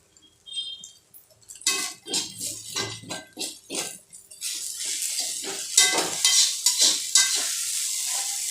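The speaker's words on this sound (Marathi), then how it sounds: "आधी साबुदाणा परतवायचा, साबुदाणा मिरची एकत्र झाल्यानंतर वरून शेंगदाणे घालायचे।" Sabudana and chillies being sautéed in a pan, with a spoon scraping and stirring in repeated strokes over a soft sizzle, close and moderately loud, with no one talking.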